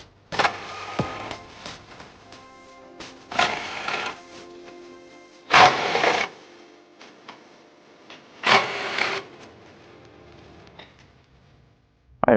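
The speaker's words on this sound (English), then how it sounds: "we're going to go ahead and use our impact drill and a 21mm swivel socket." Impact drill with a 21mm swivel socket removing frame bolts on a 2011-2021 Jeep Grand Cherokee during a trailer hitch install, heard as four separate loud rattling bursts a few seconds apart, with quieter mechanical noise between them.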